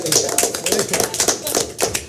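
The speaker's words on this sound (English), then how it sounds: "I think we should clap" A group of people claps together at a Conshohocken borough council work session after a motion carries. The dense, uneven patter is fairly close and lasts about two seconds, with faint voices underneath.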